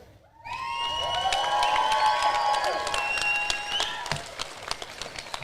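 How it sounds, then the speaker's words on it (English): Applause and cheering from the crowd at a Klamath Community College commencement ceremony, a loud sustained swell of clapping with high whoops and shouts rising after a brief quiet start and tapering near the end. "Please give a robust cheer and round of applause for their continued support."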